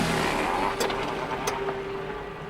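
A car engine hums and revs as the vehicle pulls up, a steady loud drone with a couple of brief sharp clicks mixed in, heard alone in a narrated story.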